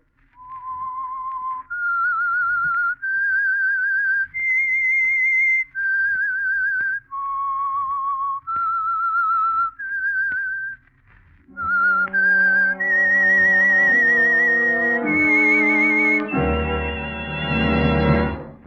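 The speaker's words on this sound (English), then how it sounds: "That whistle is your signal" A clear, melodic whistled tune of sustained notes, loud and close, shifting into a fuller orchestral swell toward the end.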